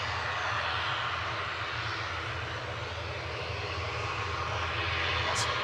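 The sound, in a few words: Aer Lingus ATR 72 turboprop departing to Belfast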